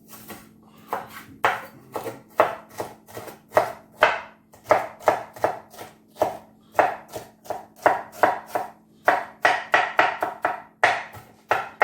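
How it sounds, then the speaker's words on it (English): Knife chopping a yellow pepper on a cutting board, a steady rhythmic series of sharp close taps, about two or three a second, sustained alone. "chop these up"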